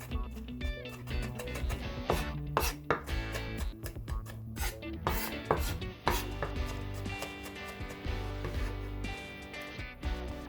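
A knife finely minces garlic on a cutting board with rapid, crisp chopping taps in irregular bursts, close and clear, for about ten seconds.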